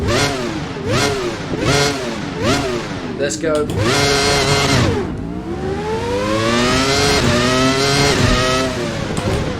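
A 1997 Williams FW19 Formula 1 car in the Assetto Corsa game screams loudly through repeated upshifts, its engine pitch climbing and dropping in rapid sweeps before a long sustained high-revving pull; a brief voice speaks near the start.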